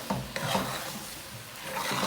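Pigeon peas (fiofio) being stirred in a cooking pot, a few soft scraping strokes under a faint sizzle, fairly quiet and close.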